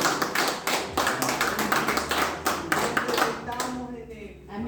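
A church congregation applauds, dense overlapping clapping from a crowd that carries on steadily, then thins out and fades near the end.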